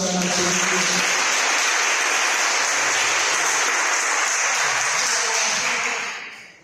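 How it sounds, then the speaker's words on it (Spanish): Loud, steady applause from a congregation at a church general meeting fills the clip, dense clapping holding evenly for about six seconds before tapering off at the end, with no voices over it. "Denle un fuerte aplauso a la Jesús."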